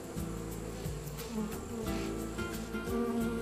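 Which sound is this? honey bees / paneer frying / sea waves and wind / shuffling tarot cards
honey bees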